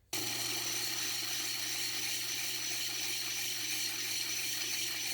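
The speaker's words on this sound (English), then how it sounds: "We are going to start with the 80 grit hard diamond wheel." An 80 grit hard diamond wheel grinds rough Holley Blue agate, giving a steady, continuous hum and gritty hiss that holds at an even level throughout, with no voices.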